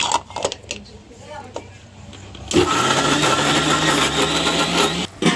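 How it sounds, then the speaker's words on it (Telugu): A mixer grinder whirs loudly and steadily, grinding fried gongura leaves for a curry; it starts abruptly halfway through after softer kitchen clatter and voices, then runs continuously to the end with a brief dip. "బాగా వేయించాం కదండి గోంగూర దాన్ని అయితే మిక్సీ పట్టుకోండి"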